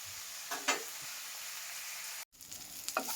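A squid mixture wilting in hot oil, a soft steady sizzle with a couple of faint stirring scrapes, broken by a brief cut to silence before the frying hiss resumes with more light scraping.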